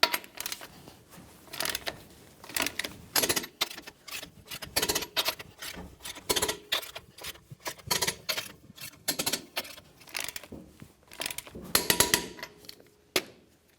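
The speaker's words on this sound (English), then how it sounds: "let's torque these in a crisscross manner" Wheel lug nuts on a 1999-2006 Chevrolet Silverado 1500 are torqued to 140 foot-pounds in a crisscross pattern, heard as a long irregular series of close, sharp metallic clicks and clacks.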